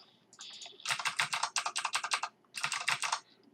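Rapid bursts of clacking keys on a computer keyboard, close and fairly quiet, in two flurries separated by a short pause, with no voices.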